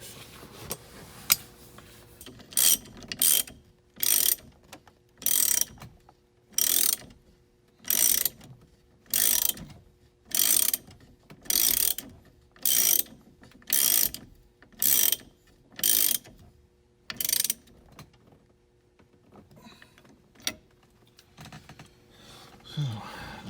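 A ratchet tightens the nut on a 1972 Mustang switch, with about fourteen bursts of rapid clicking, each roughly half a second long, at a steady rhythm and close by, followed by softer handling noise and a pause at the end.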